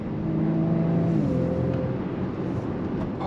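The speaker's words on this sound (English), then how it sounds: "That, that fake engine noise though." A 2024 VW Atlas 2.0 Turbo SEL Premium R-Line accelerating, heard from inside the cabin as a rising engine drone with a climbing tonal note and steady road rumble, moderately loud with no talk.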